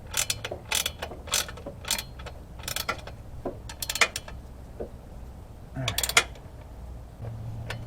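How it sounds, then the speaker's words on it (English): Flex-head 18 mm gear ratchet wrench tightening motor mount bolts on a Chevy HHR, quick bursts of close clicking strokes in short repeated runs with pauses and a faint creak between. "I'm using the Flex Head gear wrench 18 here."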